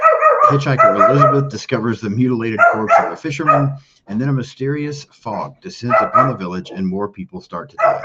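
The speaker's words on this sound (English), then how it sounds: "she wants to bark at everything in the apartment complex" A pet dog barks and yips in an apartment, the short sharp barks mixed in beneath someone narrating close and loud almost without pause.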